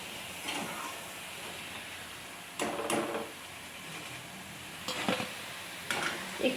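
Muri pantua frying in oil, a soft continuous sizzle with several brief louder scraping bursts as the pieces are stirred or lifted out; fairly quiet and without talk.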